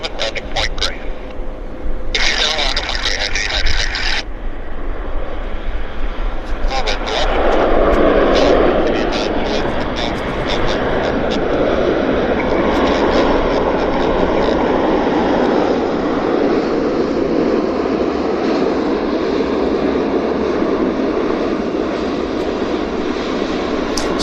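A Cargojet cargo airplane arriving at Vancouver airport, its engines a loud, steady roar that swells and holds throughout, with a voice talking over it and some radio-style chatter near the start.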